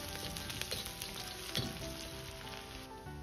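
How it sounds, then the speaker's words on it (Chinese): Chopped scallion, ginger and garlic with a few Sichuan peppercorns sizzling in hot mixed oil and lard over medium heat, a steady, fairly quiet crackling hiss with occasional spatter and no talk. "油热后保持中火，下入几颗花椒，先炸出香味，再放入切好的葱姜蒜炒香。"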